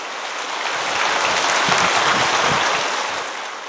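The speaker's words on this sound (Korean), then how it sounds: "우리 뜨거운 박수로 환영하겠습니다" Warm applause from a large church congregation at a Korean Sunday worship service fills the room, swelling then easing, a dense patter of many clapping hands with no voices.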